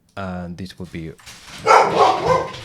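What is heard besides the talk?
dog barking at the postman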